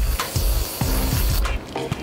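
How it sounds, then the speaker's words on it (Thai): Mineral water spray misted onto a face over foundation powder, with several sharp hissing spritzes alongside pump clicks and handling noises, loud and close. "พี่ฟอจะทำการฉีดสเปรย์น้ำแร่ลงไปที่หน้านะคะ"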